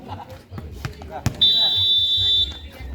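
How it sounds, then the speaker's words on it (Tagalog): A buzzer sounds at an amateur basketball game, a loud sustained electronic tone held for about a second over crowd noise and court commotion, with people talking around it. "Buzzer na lang ang maririnig ninyo."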